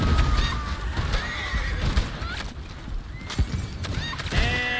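Horse in the Red Dead Online video game whinnies repeatedly, several close, loud neighs rising and falling over a background of game noise and hoof clatter.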